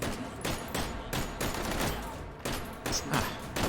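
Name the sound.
gunfire shooting targets in a video game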